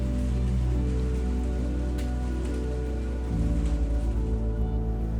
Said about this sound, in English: Rainy days make me appreciate the comfort of being indoors.